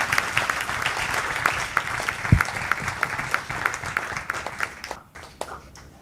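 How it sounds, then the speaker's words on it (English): Conference audience applauding its speakers at an annual industry event, a steady patter of many hands that thins and fades out near the end. "Please, can we give a very loud round of applause for all our"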